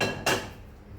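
A nonstick pan handled on a home stove gives a single sharp metallic clank, close by, followed by a quiet, fading background.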